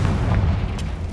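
Confringo spell blast in Hogwarts Legacy: a deep, booming explosion that rolls on as a steady low rumble for about a second, with no pause or clear sharp start.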